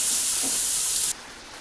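Tomatoes hitting a hot pan for butter chicken, a loud broadband sizzling hiss that holds steady, then drops abruptly to a quieter hiss after about a second.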